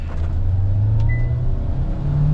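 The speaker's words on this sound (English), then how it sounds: "That was full power, 180 kilowatts going through the front wheels in the wet with some weight in the back" A Hyundai Staria Load Hybrid van accelerates at full power on a wet road, carrying weight in the back. Its drone climbs steadily in pitch as speed builds, heard from inside the cabin.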